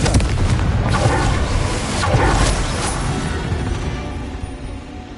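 A booming blast from a Confringo fire spell in a wizard video game, a loud, dense burst of explosive rumble with whooshing noise that swells twice and then slowly fades out.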